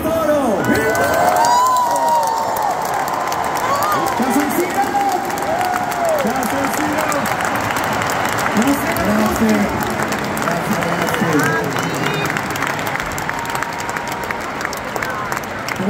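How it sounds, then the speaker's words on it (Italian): A large concert crowd at Milan's San Siro stadium applauds and cheers loudly for a choir, with sustained dense clapping, shouts and whistles filling the whole stretch, and voices calling out amid the roar. "Accogliamoli con un grande applauso,"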